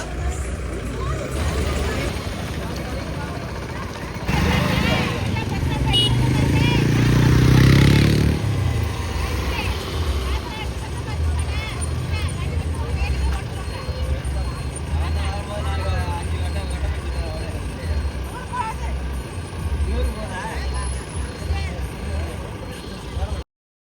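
Vehicles idle and pull away as a group sets off on a pilgrimage journey from a Sri Lankan refugee camp in Tamil Nadu, engines rumbling steadily with a louder surge early on and people talking throughout.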